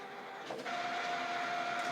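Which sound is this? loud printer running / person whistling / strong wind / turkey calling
loud printer running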